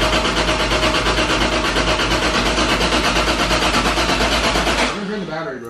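Toyota 1JZ engine cranking over without firing: a loud, steady rhythmic churning of the starter for about five seconds that then cuts off, with voices talking nearby.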